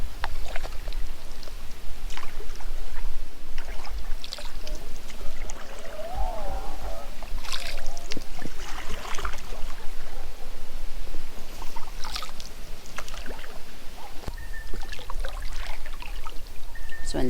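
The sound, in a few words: water lapping at a lake beach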